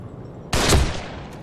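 Gunfire in the survival horror game The Evil Within: a sharp, loud blast cracks out of low ambience, followed quickly by a second heavier boom and a fading rumble.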